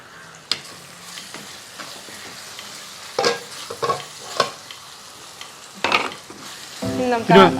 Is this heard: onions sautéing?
yes